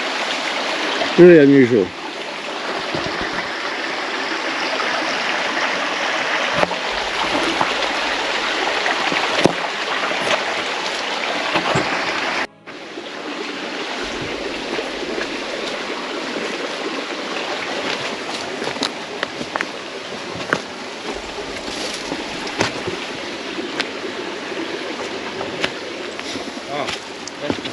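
Water pouring from a man-made drain and overflow beside an old abandoned coal mining road in the West Coast bush of New Zealand, a steady close rushing flow with someone speaking briefly over it.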